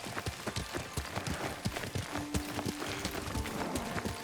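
Horse hooves gallop in the video game Ghost of Tsushima, a fast, steady run of close hoofbeats with a faint tone sounding underneath partway through.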